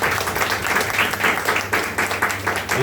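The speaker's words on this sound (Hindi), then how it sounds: "तालियां" An audience at a sermon breaks into dense, sustained applause, many hands clapping loudly and evenly across the whole stretch.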